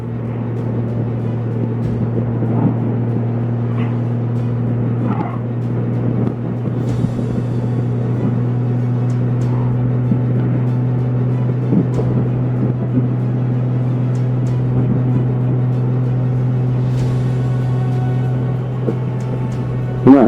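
Honda Valkyrie motorcycle cruising along a Colorado road in fall, a steady deep engine drone with constant wind rumble, loud and unbroken with no talk.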